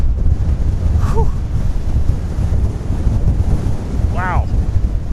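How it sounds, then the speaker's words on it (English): Strong wind at Sunset Point, Capitol Reef National Park, buffets the microphone in a constant low roar, with faint bird chirps breaking through briefly. "It is very windy."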